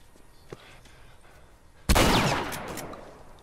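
A single loud gunshot fired at a locked gate in the video game The Last of Us, a sharp close blast with a decaying tail, preceded by quiet ambience and a faint tap.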